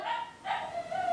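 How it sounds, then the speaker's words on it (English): Small indoor dog barking in a house, two sharp yaps a fraction of a second apart, close and fairly loud, with no talking over it. "I'm sure you can hear my dog."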